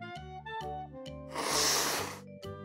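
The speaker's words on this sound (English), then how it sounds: "we need to blow his nose with a handkerchief like this one." In a baby-pets care game, a puppy's nose is blown into a handkerchief as a single breathy, snorting blast that swells and fades over light looping music.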